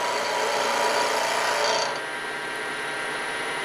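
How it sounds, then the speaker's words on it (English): Wood-turning gouge cutting a pen blank spinning on a lathe, a steady close rasping scrape that holds for about two seconds, then eases to a lighter, quieter cut. "raising the handle until it starts cutting. There I've got shavings."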